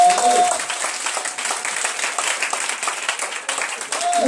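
A church congregation applauds and cheers for Jesus, sustained dense clapping with crowd noise throughout, loud and close.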